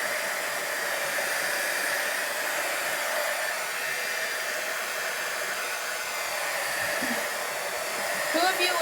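A handheld hair dryer runs continuously at close range, blowing over chalk paste on a chalk couture stencil project, a steady airy whoosh with a constant motor hum and a slight shift near the end.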